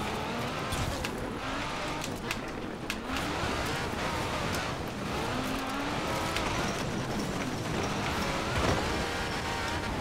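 A Ferrari racing in the Forza Horizon 4 video game, its engine revving up and down through gear changes with rising and falling pitch, steady and fairly close, with brief scrapes and tyre noise.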